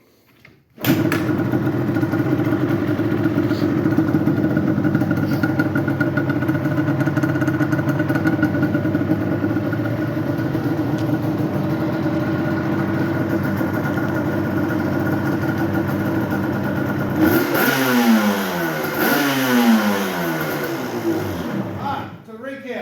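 A 2001 Yamaha Banshee ATV two-stroke engine starts abruptly and settles into a loud, steady, close idle, then revs up and down near the end in rising and falling sweeps.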